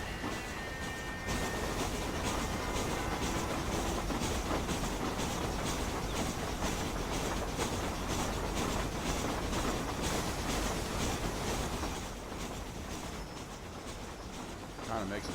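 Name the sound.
train riding along the rails in the video game Red Dead Redemption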